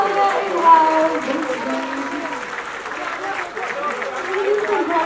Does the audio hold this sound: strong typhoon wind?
no